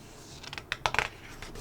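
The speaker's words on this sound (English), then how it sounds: "the page turning to being like super loud, because my microphone's like next to it" A few crisp, close papery rustles and flicks in quick succession as an art book's pages are turned right beside the microphone.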